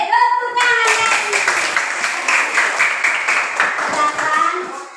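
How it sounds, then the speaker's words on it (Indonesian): Hands clapping in a school classroom discussion session, a steady stretch of fairly loud, close clapping from a group of children, with a voice in the background at the start. "tepuk tangan lagi"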